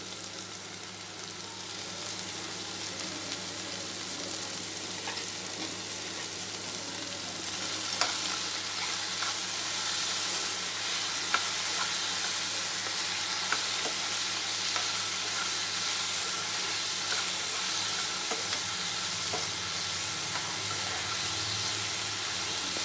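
Potatoes fry in a pan with salt and a pinch of turmeric, a steady close sizzle running throughout while a spoon stirs and scrapes now and then with faint clicks.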